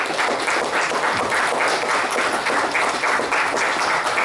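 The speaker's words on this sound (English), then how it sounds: "please help me to give them a big applause" Dense, steady applause from an audience at a congressional briefing, many hands clapping continuously at even loudness with no talk over it.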